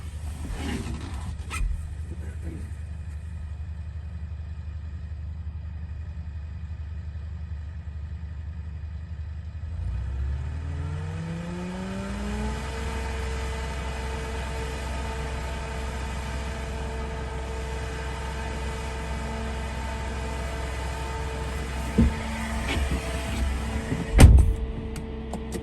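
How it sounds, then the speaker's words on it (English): A stump grinder's engine hums steadily nearby, then rises in pitch as it is driven off the truck. A few faint knocks follow, and a louder clunk comes near the end, with no talking. "Fixing to drive the stump grinder from the truck"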